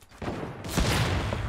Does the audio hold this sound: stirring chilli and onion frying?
no